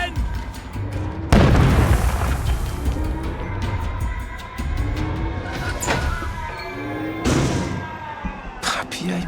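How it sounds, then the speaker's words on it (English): Bombing explosions in the video game We Happy Few land as heavy, booming blasts, one big impact followed by several more spaced across the stretch, with rumbling debris and a steady din between them. "They're bombing us again!"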